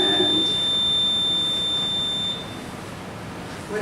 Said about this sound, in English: what is that beeping about?